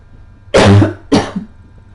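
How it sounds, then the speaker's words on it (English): Two sharp coughs from a person, close and loud, separated by a brief pause, the second a little shorter than the first, with a quiet room hum underneath. "I have to cough"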